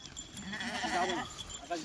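Nizampuri sheep bleat in a short series of wavering calls amid a flock that has just arrived by truck from Gujarat, with people talking over them.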